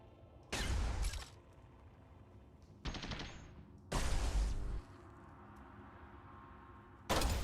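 Gunfire in the video game Caves of Qud, with four loud, separate bursts of rapid shots, each lasting about half a second, and quiet pauses between them.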